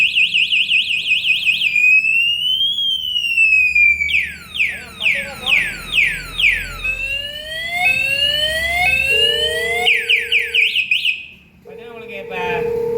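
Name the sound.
anti-theft alarm lock on electric bike sounding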